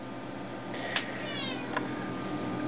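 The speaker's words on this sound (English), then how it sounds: "Oh, and the cat just came in." A house cat meows a couple of times, short and moderately close, over a steady background hum in a workshop with a homemade junkbox router nearby.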